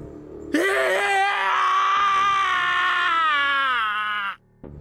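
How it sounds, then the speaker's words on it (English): A man in the video game 999 screams in rage and despair inside an incineration chamber, a loud, sustained, strained cry lasting about four seconds and breaking off abruptly near the end. "His scream echoed throughout the incineration chamber, full of rage and despair."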